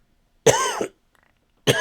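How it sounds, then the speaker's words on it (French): A single close cough, followed by a brief pause and the start of another cough. "toujours le même problème avec ma toux"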